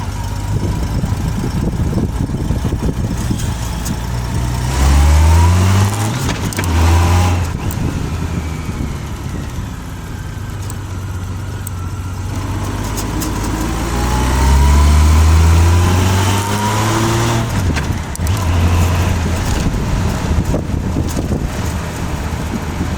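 A Honda Goldwing touring motorcycle on the move, its engine revving up and down through tight circles under steady wind buffeting on the microphone, loud and close, with rising and falling engine sweeps.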